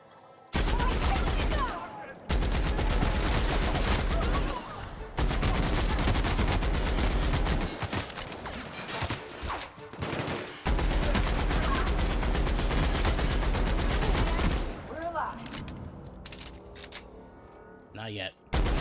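Sustained heavy gunfire from guards in the video game The Outer Worlds, long dense bursts of shots that pause briefly and resume, loud and close, with a voice speaking over the shooting.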